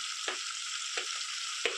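Three or four dried red chillies frying in a tempering of hot oil for a red sorrel pickle, making a continuous, close, bright sizzle broken by three soft stirring scrapes.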